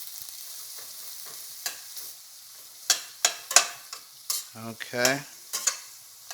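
Onions sizzle in a pan as they are stirred and swirled around, a steady soft fry broken by several close scraping stir strokes, with one brief word spoken.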